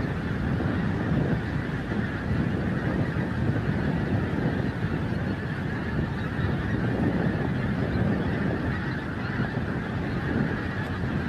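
Wild geese flying in over Montrose Basin Wildlife Reserve, a dense continuous chorus of honking from a large flock, with some wind noise across the microphone.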